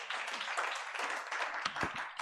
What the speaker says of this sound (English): You may give them a round of applause as well.